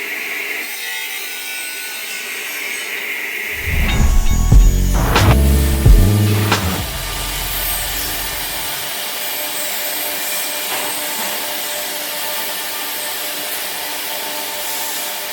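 A woodworking machine in a luxury furniture factory cuts frame parts: a loud, low roaring cut lasting a few seconds rises over a steady workshop hum, then fades back to the background machinery drone.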